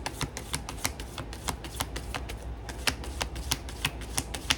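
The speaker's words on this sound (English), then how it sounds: "my hands are hurting between doing my hair and shuffling these cards" Tarot reading cards shuffled by hand in a steady run of quick, crisp riffling bursts, close and clear with no talking.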